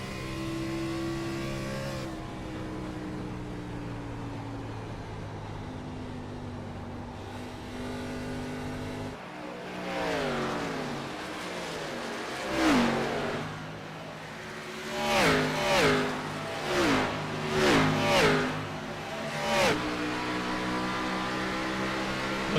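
Race car engine on throttle in a Homestead stock car racing video game, a droning tone that climbs through repeated sharp revving surges as gears change, loud and close.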